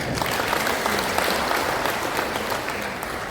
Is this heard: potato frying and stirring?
no